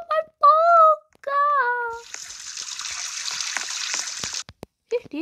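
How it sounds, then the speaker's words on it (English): Running water gushes from a tap in the Roblox game Brookhaven, a steady hiss lasting a couple of seconds between excited child-like voices talking before and after. "Who's using the water?"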